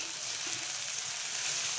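Radish pieces roast in a pan, cooked village style, giving a steady, soft sizzling hiss that runs without pause and stays fairly faint throughout.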